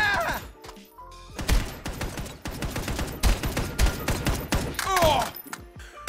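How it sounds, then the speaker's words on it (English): Gunfire in the VR shooter Hard Bullet: a dense run of rapid, loud shots and thuds repeating throughout, with a brief voice near the start and end. "Go ahead and shoot him"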